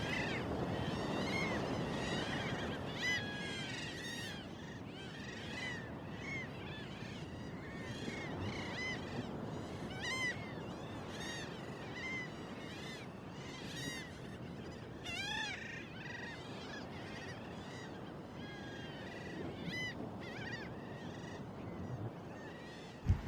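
Seagulls calling on the Anglesey coast near a harbour: repeated harsh, honking cries come and go over a steady wash of wind and water, fairly close and continuing throughout.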